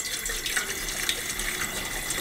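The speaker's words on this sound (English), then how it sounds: "I need to fill this up with water to prep our noodles" A bush pot on a camp stove is filled with water for noodles, and the stream from the tap runs in a steady, close splashing flow with no one speaking.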